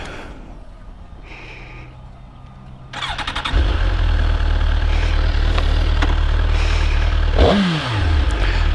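A 2015 Suzuki GSX-R1000 sport motorcycle engine with stock exhaust cranks and catches, then settles into a loud, steady idle with a brief throttle blip near the end; close and dominant.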